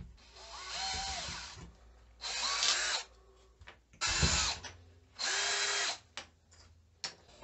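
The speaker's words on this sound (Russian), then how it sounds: "берем крышку и делаем сквозное отверстие" Three bursts of a small power drill with a 7 mm bit whirring through a plastic bottle cap, each lasting under a second, separated by brief pauses and faint handling clicks.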